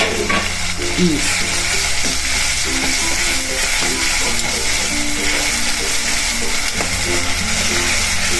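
Finely chopped, crushed onion sautéing in a pan with ginger-chili paste, giving a loud, continuous close sizzle with occasional stirring clatter and a low background hum.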